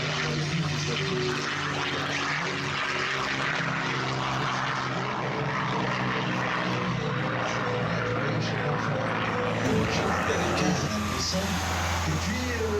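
A Curtiss P-40 warbird flies at an air show at Le Bourget, its propeller engine giving a steady loud droning roar throughout, with someone talking over it.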